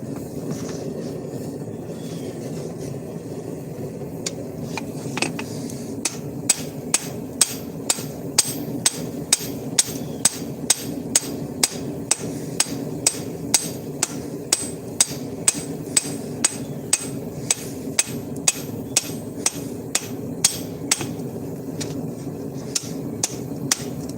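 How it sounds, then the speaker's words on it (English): A hammer rings steadily on hot steel while forging the bevels of a blade, with evenly spaced sharp strikes, close and clear, over a low background rumble. "I'm forging in the bevels"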